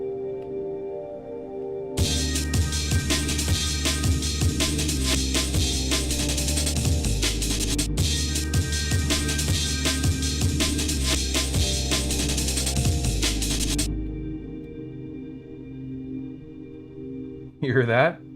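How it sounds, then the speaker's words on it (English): A stuck note drones steadily on a Polyend synth, a sustained tone running underneath a dense, bright, continuous electronic wash for most of the stretch before it drops out to the lingering drone and a brief blip near the end. "That's the sound of a stuck note."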